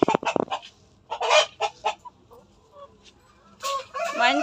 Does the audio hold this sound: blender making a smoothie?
no